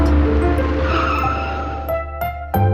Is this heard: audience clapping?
no